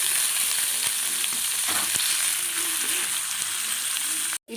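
Paneer cubes fry in butter in a pan with a steady close sizzle and a few stirring knocks, no talking.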